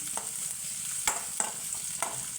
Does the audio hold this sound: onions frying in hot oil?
yes